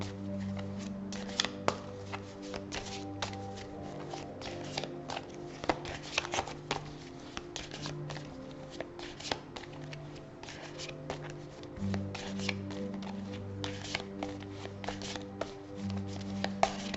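Tarot cards shuffled by hand for a reading, a steady run of soft riffling and flicking taps with occasional sharper snaps, close and fairly quiet over a faint low hum, no talk.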